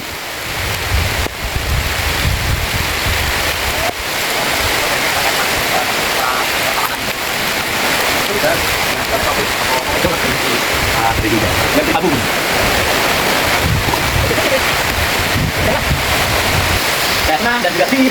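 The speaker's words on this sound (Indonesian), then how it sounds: "Jadian turun nih bos hujannya." Heavy rain pours down steadily at a farm shelter by an oil palm plantation, a dense, continuous broadband roar with gusty wind noise throughout, loud and close, with no clear speech over it.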